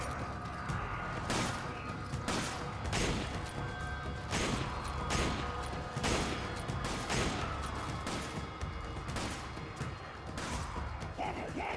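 Rapid gunfire and crashing impacts from Resident Evil 5, with sharp shots repeating roughly every half to one second over a steady dense game noise bed throughout.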